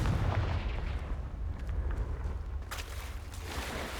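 Confringo fire-blast spell cast in the Hogwarts Legacy video game: a heavy, booming explosive rumble that swells and rolls on for several seconds, loud and close, with a second burst of crackle partway through.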